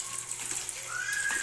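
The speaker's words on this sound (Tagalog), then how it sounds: "Ayan, hugasan natin na maayos para malinis." Tap water runs steadily while pechay greens are rinsed at a kitchen sink, a soft continuous splash with a faint whistling tone in the flow.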